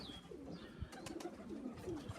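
Pigeons coo in a loft at feeding time, with soft repeated cooing calls layered close together, light chirps and a few scattered knocks and thumps throughout.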